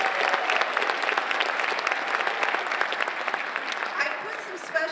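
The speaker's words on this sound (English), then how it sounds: "If we could give them a really big round of applause." A large audience at a school band concert claps loudly and continuously, dense overlapping hand claps filling the hall with a slight crowd murmur underneath.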